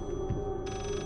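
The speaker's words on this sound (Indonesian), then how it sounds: "Ah suara telepon." Telephone ringing inside the horror video game Layers of Fear, a brief faint electronic ring heard over low ambient game drone.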